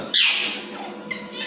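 A pet myna bird kept in a cage lets out a sharp, loud squawk that trails off, followed by a second shorter squawk, close by with no talk over it.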